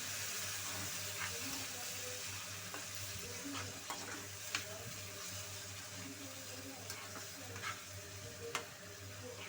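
Marinated chicken pieces frying in a pan on medium heat, a soft continuous sizzle with occasional light clicks and stirring taps, fairly quiet and close.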